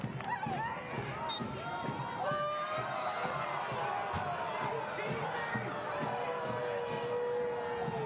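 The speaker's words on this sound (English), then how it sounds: "Home crowd did not like that call." At a Spokane Zephyr FC versus Lexington SC football match, the home crowd reacts to a referee's call with a sustained roar of jeers, whistles and shouting heard at a distance throughout.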